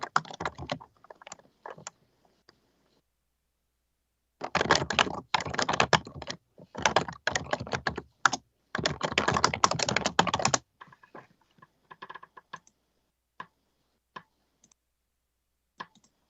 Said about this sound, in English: Sorry, I'm just typing this out here.